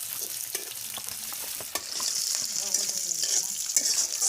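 Fresh lauki saag greens, new potato and eggplant fry in a pan with browned onion, a steady bright sizzle broken by clinking stir strokes and scrapes, with faint voices in the background.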